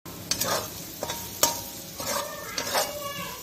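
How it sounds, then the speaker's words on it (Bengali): Capsicum fries in hot oil for chicken chowmein, a steady sizzle broken by several sharp scrapes and clinks of a spatula stirring against the pan. "ক্যাপসিকাম গুলো তেলে ভাজা হচ্ছে"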